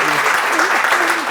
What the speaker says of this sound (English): don't sit down just yet, Gisbert, until you get a nice round of applause from everybody